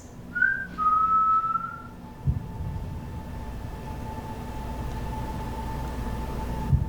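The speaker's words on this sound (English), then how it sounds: "Can you make a whistling sound like this?" A single short whistle, held briefly and then falling slightly in pitch, sounds in a quiet old house during a paranormal investigation, followed by a low steady hum and faint room noise.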